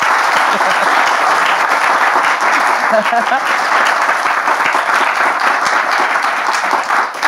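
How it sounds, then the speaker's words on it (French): A studio audience breaks into dense, sustained applause that stays loud and even from start to finish, a continuous wash of many hands close to the microphone. "On peut l'applaudir quand même."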